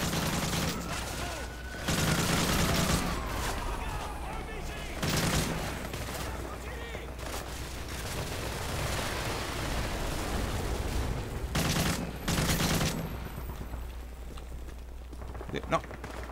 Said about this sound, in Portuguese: Tá vindo tiro em algum lugar.